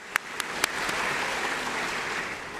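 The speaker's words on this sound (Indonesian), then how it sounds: "juga tepuk tangan" A few sharp claps, then a dense burst of applause from a church congregation during a 78th anniversary thanksgiving service, steady and fairly close, continuing to the end.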